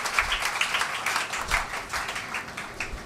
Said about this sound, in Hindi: हम तालियां देंगे ज़ोरदार सचिन तेंदुलकर जी के लिए